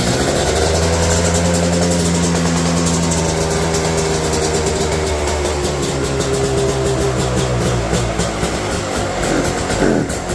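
A Beta two-stroke motorcycle engine with two-stroke oil mixed in and no air filter fitted runs steadily just after the choke is turned off, a close, loud, buzzing idle that holds its pitch with slight wavering throughout.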